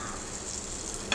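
Butter sizzles in a hot pan, a steady, fairly loud hiss with no voices, ending on a brief sharp crackle.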